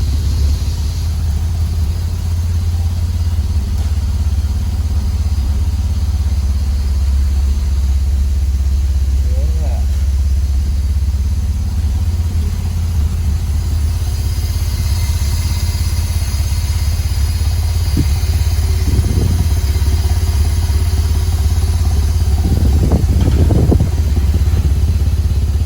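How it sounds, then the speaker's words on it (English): A vintage Porsche race car engine, started after eight years of sitting, idles steadily in a low, continuous rumble that holds the whole stretch, with brief clanks and a voice nearby. "The car is idling well."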